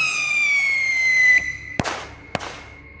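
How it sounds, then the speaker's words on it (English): Firecrackers set off by boys in the North Georgia woods, two sharp loud bangs about half a second apart, following a fading high whistle. "Some boys are lighting off firecrackers"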